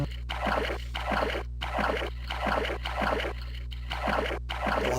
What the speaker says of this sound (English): you notice the water starting to speed up.